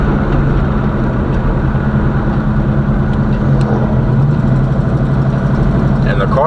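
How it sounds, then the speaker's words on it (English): A Box Chevy's engine rumbles loudly and continuously while driving on a test ride to check transmission shifting, with a deep steady drone and a voice speaking over it. "And this car just sounds so good. It sounds mean, but it's so slow, y'all."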